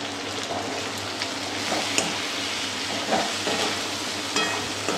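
Whole spices with salt and turmeric powder fry in a pan for a chicken curry, a soft continuous sizzle with faint stirring clicks, fairly quiet and close, without speech.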